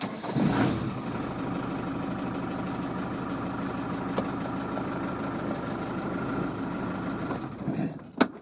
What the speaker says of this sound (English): What I need to do first is start the engine